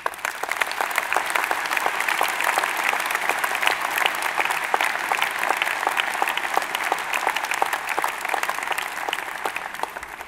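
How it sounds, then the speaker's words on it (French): Steady, sustained applause from a large crowd in an arena during a New Year's speech, dense clapping that holds an even level throughout without talk. "Merci de les applaudir."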